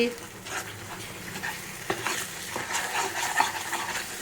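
Spiced food in a pan is stirred with turmeric, chilli powder, salt and sugar, giving steady close scraping and stirring over a soft frying sizzle, with a few sharper utensil knocks against the pan.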